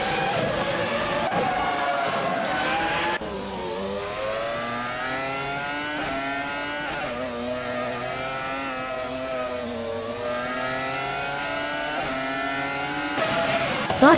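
Race cars in a racing video game, including a Sauber C20, roar continuously with high engine whine rising and falling through gear changes and a brief tire squeal, loud and steady throughout.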